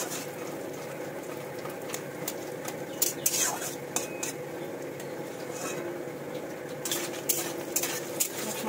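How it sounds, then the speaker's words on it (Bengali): Lentil dumplings (bori) frying in oil in a home kitchen pan, a steady low sizzle with occasional clinks and scrapes of a spatula against the pan, close by with no talking. "বড়িগুলোকেও কিন্তু আমি সুন্দরভাবে লাল লাল করে ভেজে নেবো একদম"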